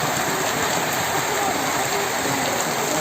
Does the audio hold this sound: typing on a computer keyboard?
no